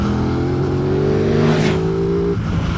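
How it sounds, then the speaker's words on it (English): An Aprilia RS 660 motorcycle engine revs steadily with a smooth, sustained note that rises slightly before dropping off, loud and close throughout. "It has a sort of good engine note and decent shove everywhere"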